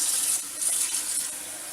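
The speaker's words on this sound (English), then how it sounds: "And fill this up all the way up to the tippy top to make sure this entire pork is covered with water and the brine" Water and brine pour steadily from a tap into a container of pork being soaked for cottage ham, a continuous close hiss of running water with no talk.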